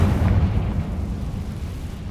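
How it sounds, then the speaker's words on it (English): A Confringo spell explosion in the Hogwarts Legacy video game booms loudly with a dense low rumble that rolls on for a couple of seconds, like a firework going off. "It's like a firework going off. You think it's already blown up, but then there's another explosion."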